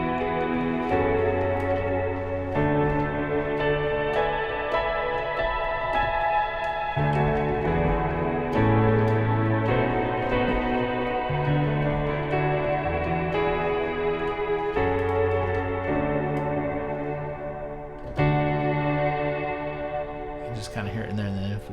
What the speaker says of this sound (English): Cloud is kind of more of a 70s, 80s algorithmic reverb.